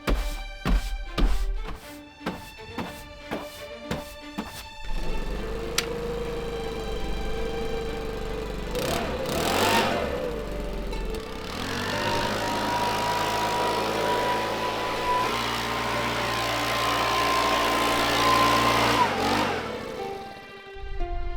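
A leaf blower clears sawdust off wooden decking, with a steady, fairly loud motor drone running for most of the stretch after some sharp knocks at the start.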